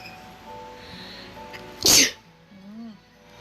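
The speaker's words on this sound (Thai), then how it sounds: "ขออภัยด้วยนะครับที่จามไปเมื่อกี้" One sharp, fairly close human sneeze bursts out over faint background sounds and quiet electronic tones, standing clearly above the low surroundings for about half a second.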